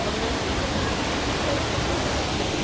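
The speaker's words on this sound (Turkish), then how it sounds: "şu an Düden Şelalesi'ndeyiz" Rushing water pours steadily at Düden Waterfall, a loud, unbroken roar that fills the whole moment with no pauses.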